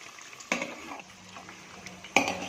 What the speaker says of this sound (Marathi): आलटून पलटून दोन्ही साईडने यांना छान फ्राय करून घ्यायचे